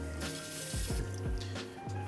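Water is poured and sloshed into a cooking container while making halal yong tau foo, giving a close, gurgling fill with a few rising bubbly pulses.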